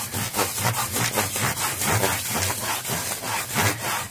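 4000 grit micromesh rubs over the frets of a Squier Stratocaster Affinity guitar in steady, close back-and-forth strokes, a raspy scraping rhythm of roughly two to three strokes per second with no voices.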